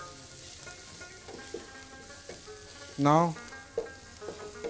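Softened onions sautéing in a pan, sizzling steadily with stirring clatter, briefly interrupted by a loud tonal rising chirp near the middle; a single short spoken word appears over it.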